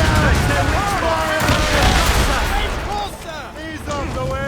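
Ship cannons boom in a rapid broadside volley in Assassin's Creed Rogue, heavy overlapping blasts rolling one after another, with shouted crew voices and whistling projectiles underneath.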